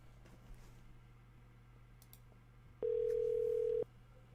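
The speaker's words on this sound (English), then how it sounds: "All right, Ali, phone call coming in now." A single steady electronic phone tone sounds for about a second over a quiet background hum, signalling an incoming call.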